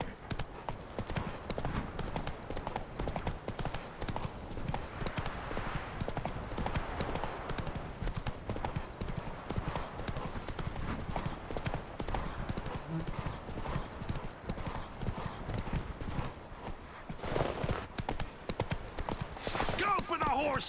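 Roach the horse gallops across open ground in Witcher 3, hooves pounding in a rapid continuous rhythm under game voices and battle noise, with a whinny near the end.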